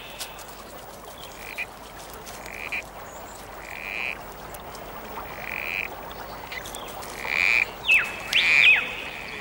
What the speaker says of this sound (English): A male corroboree frog is calling on females